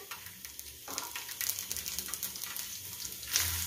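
Garlic frying in hot oil in a home kitchen while chile and onion are cooked for Mexican dishes, a steady close sizzle with soft crackles that swells midway and flares briefly near the end, with no talking.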